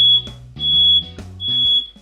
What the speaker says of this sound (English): And of course the smoke alarm went off.